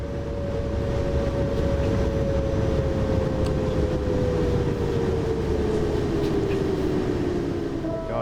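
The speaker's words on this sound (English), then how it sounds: "a bit of shaking there as well, a bit of juddering as the train started braking" Train Sim World train on the Hauptstrecke Rhein-Ruhr in snow at night, rumbling and juddering steadily as it brakes, a dense continuous roar with a faint tone slowly sliding lower.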